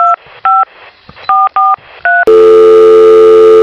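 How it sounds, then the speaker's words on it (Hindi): Six short, loud DTMF keypad tones beep in an uneven rhythm as a phone number is dialed, followed by a steady, continuous ringback tone that takes over at the end. "भाईवा जो लगाई फोन बाजी, रुका लगावा हियो।"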